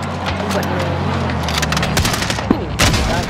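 Rapid bursts of gunfire from a Call of Duty Warzone match, several sharp shots and a quick fusillade close by over a steady rumbling background, with a voice talking over the shooting.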